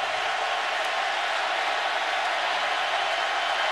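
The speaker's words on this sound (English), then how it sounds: "3rd down and 17, and the crowd lets them hear about it." Stadium crowd at an Auburn versus Florida college football game in 2011, a steady, dense roar of many voices sustained throughout on a third-and-long play, with no single voice standing out.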